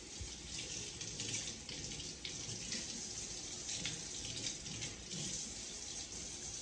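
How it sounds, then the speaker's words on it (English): Water runs steadily from a kitchen tap while an octopus is rinsed under it, a continuous close splashing hiss with small shifts as it hits the flesh, and no talking. "right now we're just gonna rinse it off"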